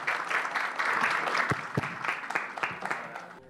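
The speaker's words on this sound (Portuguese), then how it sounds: "Palmas para o Léo Baiano, gente, por favor." An audience at a WordCamp conference in Rio breaks into brief, lively applause, many hands clapping at once before it tapers off, with a few voices mixed in.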